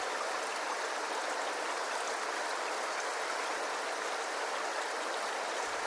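A New Zealand river rushes steadily, a constant even hiss of flowing water heard alone at moderate distance throughout.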